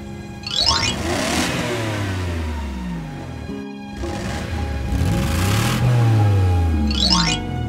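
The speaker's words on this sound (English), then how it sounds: "Hummer." Hummer engine revving hard in repeated rising and falling sweeps, loud and close, with a brief drop near the middle before climbing again.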